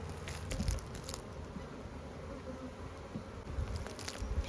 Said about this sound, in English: These are some good bees.